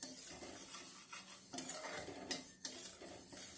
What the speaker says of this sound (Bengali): শুকনো খোলায় ডালটা হালকা করে ভেজে নেব।